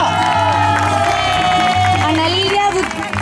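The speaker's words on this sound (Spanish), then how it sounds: "¡Fuerte el aplauso!" Audience cheering and shouting at an evening awards ceremony, a loud continuous crowd roar with whoops, with music playing underneath and a voice calling out over it.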